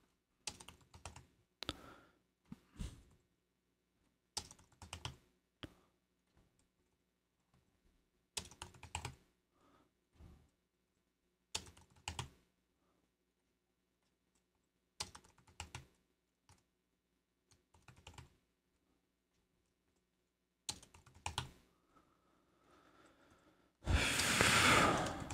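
Bursts of typing on a computer keyboard while building a pricing table for a sales page, short clusters of key clicks separated by pauses, close and quiet, with a louder rustling burst at the end.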